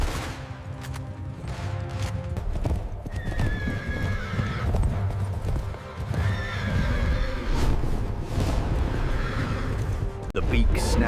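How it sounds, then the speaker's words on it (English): A terrified Frisian horse neighs loudly while hooves pound in a fast gallop, with gunfire crackling around it in a dense, close scene. "the terrified Frisian horse carried Rios out of range"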